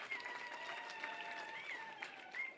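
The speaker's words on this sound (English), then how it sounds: "Can we give him another round of applause, please?" Audience at an official event on relocating Botswana citizens of Namibian descent applauding the governor, a faint, distant patter of clapping from a crowd, steady and soft, with tonal background sounds woven through.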